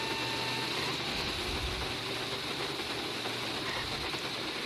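Steady rain hisses through a rainy scene in the video game GTA 5, a dense, even wash of noise with a faint low rumble beneath and no talking.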